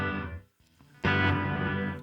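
A guitar played through a Line 6 HX Stomp nonlinear reverb with the high cut engaged gives two dark, muffled swells, the second louder and sustained, with no talking.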